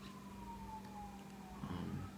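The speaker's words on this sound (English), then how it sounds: "Look at that, ambulance going to somebody who needs help" A faint, distant ambulance siren passes by, its wailing pitch sliding steadily downward over a low background rumble, with no one talking.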